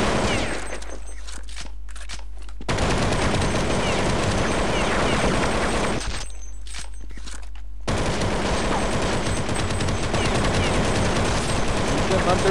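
Sustained rapid gunfire from Counter-Strike 1.6 in the Zombie Base Builder mode rattles almost continuously through the stretch, with two brief lulls and a voice talking over it.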